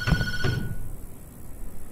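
In the horror game Tattletail a phone gives one short electronic ring burst, a double trill near the start, then it falls quiet under a low background hum with no one speaking.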